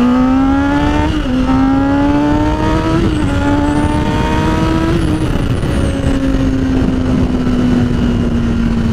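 A motorcycle pulls away with the clutch let out and throttle applied, its engine note climbing steadily in pitch through repeated rising sweeps, loud and close, no talking.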